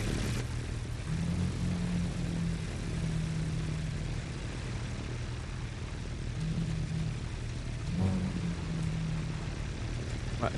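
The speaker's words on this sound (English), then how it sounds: "Your engine's too loud in my ear." A Kawasaki Ninja H2 motorcycle engine in The Crew 2 racing game drones steadily and loudly, its pitch rising and falling a few times as the throttle changes.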